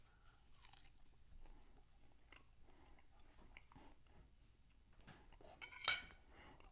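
Chewing and crunchy biting on sliced smoked London broil, a tender cut, with faint clinks of cutlery and dishes nearby and a sharper bite or clink near the end; quiet, close, no talking.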